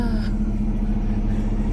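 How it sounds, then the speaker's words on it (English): Peterbilt truck engine idling low and steady after startup, a deep rumble with a constant droning hum, close by, with no talk. "I'm gonna go ahead and start the truck"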